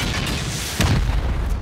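Rocket explosions hit armored bunker walls during a raid in a survival video game: a single heavy, muffled boom strikes near the middle, over a constant low rumble of background game noise.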